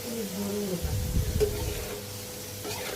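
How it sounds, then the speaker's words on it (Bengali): Spiced, peeled sweet potato slices fry in a pan with a steady close sizzle, while a burst of stirring and scraping in the middle briefly rises above the hiss. "এখন মিষ্টি আলু ভাজবো মিষ্টি আলু ছিলে কেটে নিয়েছি মশলা মাখিয়ে নর্মাল আলুর মতোই ভেজে নিব"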